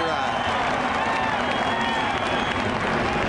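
A large crowd at a NASCAR Cup race at Daytona applauds and cheers in a dense, continuous roar, heard under speech.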